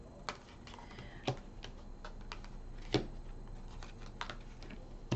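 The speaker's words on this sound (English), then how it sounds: "I'm going to make sure I throw all these cards down so I make sure I can keep track of where we're at" Tarot cards are thrown down one after another onto a table during a reading. Soft, sharp slaps and taps land at irregular intervals, close and fairly quiet, with no talk.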